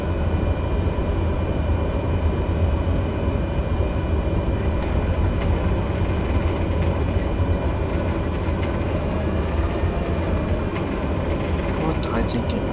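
Airliner engines spooling up for takeoff in Microsoft Flight Simulator 2020, a steady dense roar held throughout the clip.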